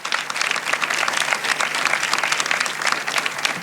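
A room full of people claps steadily, a dense, even applause that holds at the same level throughout with no voices over it.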